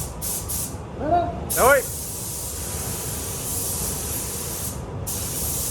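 A paint spray gun turned down to about 1.2 lays a drop coat on a BMW in a paint shop, a steady close hiss running most of the time, cut by brief pauses, after a short spoken remark.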